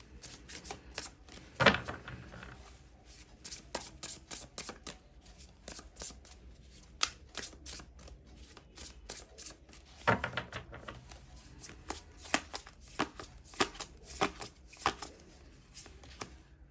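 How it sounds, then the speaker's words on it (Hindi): Tarot cards drawn and shuffled from a deck, a steady patter of soft papery flicks and snaps with a few louder riffles, close and fairly quiet, no talking. "यहाँ से भी मैं 6 कार्ड्स निकालूंगी"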